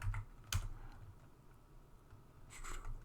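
Code being typed on a computer keyboard during a lecture on C programming, short bursts of soft key clicks near the start and end, faint, over a low room hum, no talking.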